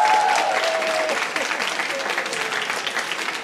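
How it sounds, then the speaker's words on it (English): Audience applause in a Hong Kong auction saleroom at a Christie's sale of Chinese antiques, a sustained wash of many hands clapping, loud at first and then easing slightly, with a faint tonal note and murmur underneath. "Thank you for the applause."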